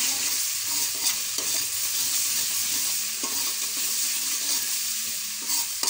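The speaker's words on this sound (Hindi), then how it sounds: "अदरक फ्राई हो जाएगा" Ginger fries in oil in a karahi, a close, steady crackling sizzle broken by repeated scraping strokes of a spoon stirring it.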